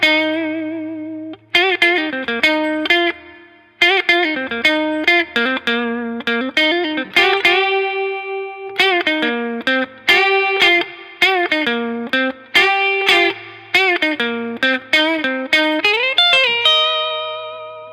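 Electric guitar plays a song's riff: bright single notes and slides in a repeating, syncopated phrase, processed with a chorus-like effect and reverb, alone and close.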